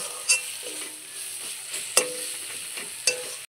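Ground spices for mutton chaat frying in oil in a pan, a steady sizzle broken by three sharp scrapes of a spoon stirring them, close by and with no talking.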